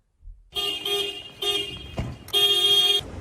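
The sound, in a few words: car horn honking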